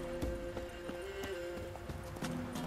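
A horse trots in The Witcher 3 video game, with rhythmic clip-clop hoofbeats and a brief whinny, heard fairly close and clear.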